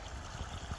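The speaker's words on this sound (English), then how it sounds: "the water will drop off of that big grey stone and then run down and go into the lake, into the pond like that" Garden stream water spilling off a big grey stone and running down into a pond, a steady, soft outdoor trickle with low gurgles, no one speaking.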